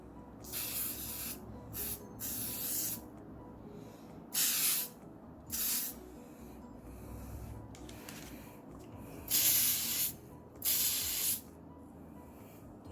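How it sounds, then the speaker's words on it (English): A can of PME clear glaze edible spray hisses in several short bursts of a second or so each, with quiet pauses between, close up while glazing a sugar anthurium flower. "I'm using here a PME clear glaze edible spray"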